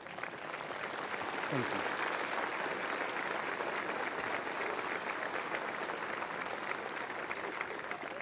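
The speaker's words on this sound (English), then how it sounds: "Round of applause, just a simple thanks." Audience applause at a Concordia Lutheran High School ceremony, a steady dense wash of clapping filling the room for the whole stretch, with a brief spoken thanks over it.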